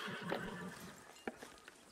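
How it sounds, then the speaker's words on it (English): A horse in the video game Red Dead Redemption 2 whinnies over hoof clip-clops, then a few sharper hoof knocks follow. All of it is quiet and close, with no speech. "I'm not gonna hitch my horse."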